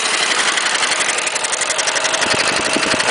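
A gasoline engine converted to diesel idles steadily close by, a continuous rumbling chug with an even, rapid pulse and no talking.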